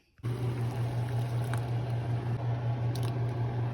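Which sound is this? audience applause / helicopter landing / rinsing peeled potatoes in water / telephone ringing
rinsing peeled potatoes in water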